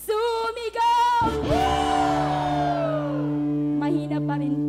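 Congregation at a JIL Mangaldan praise and worship event lets out a loud, sustained mass shout with layered voices and long rising-falling pitch sweeps. The roar fades slowly under ringing reverb and sustained music, and a few smaller shouts follow near the end.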